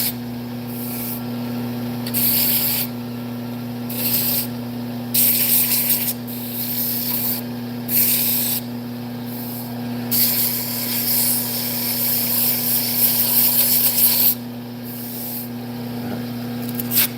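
Steady abrasive hiss of 80-grit sandpaper against a firewood yoyo spinning on a wood lathe, over a constant motor hum, rising and easing in repeated passes, loud and close.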